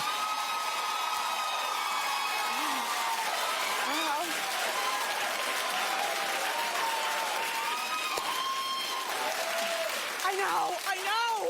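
Studio audience at a daytime talk show claps steadily throughout, a dense, even patter with whoops and laughter rising over it; a voice talks briefly near the end.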